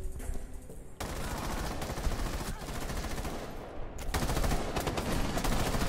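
Dense, rapid gunfire from a Rainbow Six Siege match fills the whole stretch, with automatic bursts and overlapping shots that grow louder near the end, and faint voices underneath.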